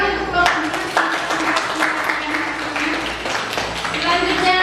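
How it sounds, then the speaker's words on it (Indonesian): A classroom audience at a teacher-training performance assessment applauds a presenting group, giving sustained clapping that mixes with voices and background chatter throughout. "Baik, tepuk tangan untuk kelompok."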